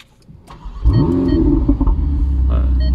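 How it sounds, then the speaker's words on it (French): A Ferrari 488 Spider's V8 engine starting: a short electric crank, then the engine catching with a loud rising roar that settles into a steady, deep idle rumble, close by. "Démarrage du V8."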